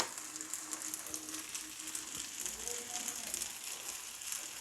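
Gentle continuous sizzle of maida-coated stuffed banana frying in a little coconut oil in a small pan, faint and steady, with a few light utensil clicks and no talking.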